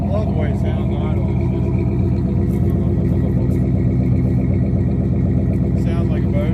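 A 1968 Chevrolet Impala's deep, rumbling engine idles steadily nearby with a lumpy, loping rhythm, loud and continuous throughout, with faint talking mixed in.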